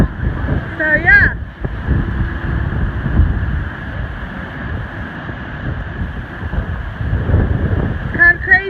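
Wind and rain from a cold nor'easter on the first day of spring in Delaware buffet the microphone in heavy low rumbling gusts, with a person talking over the steady outdoor roar.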